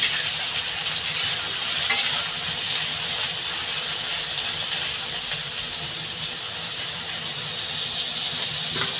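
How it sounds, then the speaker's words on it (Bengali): Soya chunks fry in a pan until reddish brown, a dense, even sizzle that holds steady throughout, close up and moderately loud with no speech. "সয়াবিন বড়িটা বেশি একটু লাল লাল করে ভেজে নেব"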